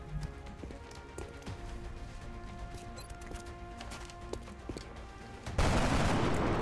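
Gunfire in the XCOM Long War strategy game, a run of sharp shots over a busy mid-level game soundscape, ending in a louder burst of dense noise near the close; no voices.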